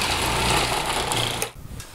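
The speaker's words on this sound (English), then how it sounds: "use my little attachment here and just grate that up" A food processor fitted with a grating attachment shreds cauliflower, giving a steady whirring, rattling motor drone for about a second and a half before it abruptly cuts off, leaving quieter residual clatter.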